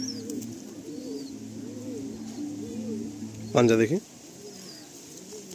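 Madrasi pigeons cooing in repeated soft, low rolling phrases close by, with a brief louder burst of handling or wing noise midway, while someone talks over them.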